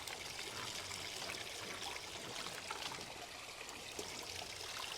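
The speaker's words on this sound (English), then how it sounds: "that flow of water over there on them is excellent" Water flowing steadily in a fish tank, a continuous soft trickling and splashing that stays constant and fairly faint throughout, with no talking.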